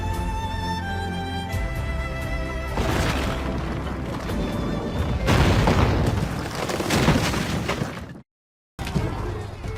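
Naval cannon fire and explosions in the video game Assassin's Creed Rogue: after a tonal opening, heavy booming cannon blasts and crashing impacts swell loud for several seconds, then cut to brief silence before more rumble.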